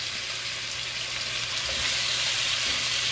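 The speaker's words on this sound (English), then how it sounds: "I like to brown my oxtail, guys." Oxtail browns in a hot pan with a steady, close sizzle and frying crackle that holds at an even level throughout, with no voices.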